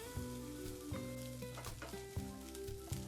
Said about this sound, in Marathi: आपण ही आलं लसूण पेस्ट त्या मस्त तेला आणि तुपामध्ये परतून घेऊया